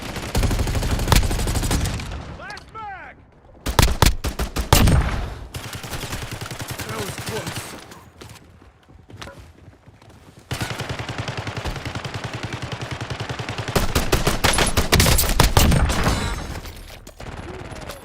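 Gunfire in the Warzone video game: bursts of rapid automatic shots and sharp single reports come in clusters across the clip, loud and close, with pauses between volleys and some voice chat mixed in.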